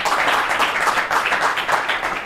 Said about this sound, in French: On peut l'applaudir, tout à fait.